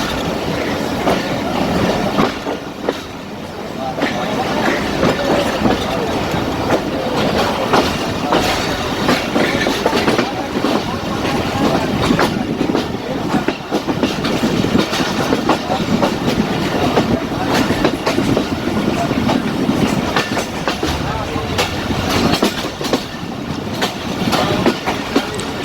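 A Jaffar Express passenger train leaving the Gujrat railway station yard in Pakistan rumbles steadily along the rails, with continuous clattering wheels and a loud, close, unbroken roar throughout.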